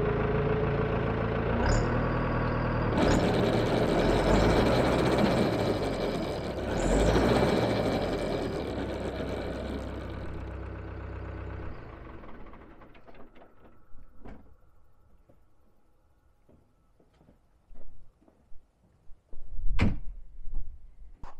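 A tractor-mounted snow blower in a Norwegian snowstorm runs loud and steady, then winds down into quiet, broken by scattered clunks and knocks near the end.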